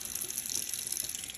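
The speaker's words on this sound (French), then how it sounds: "Voilà, j'ai l'eau qui coule à mon robinet." Water runs steadily from a push-button tap that has just been pressed and stays on, giving a continuous, even close-up hiss and splash into the sink with no talking.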